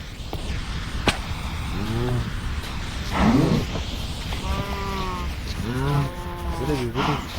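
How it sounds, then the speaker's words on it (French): Cows in a Minecraft Dune modpack game low repeatedly, several drawn-out moos in a row, fairly close and clear over faint background sound, with a couple of sharp clicks between calls. "faut que je fasse se reproduire les vaches"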